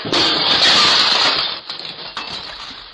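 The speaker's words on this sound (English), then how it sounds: "jumped through my glass front door" A glass front door smashed in a video game, a loud sudden shatter that fades into tinkling falling shards over about three seconds.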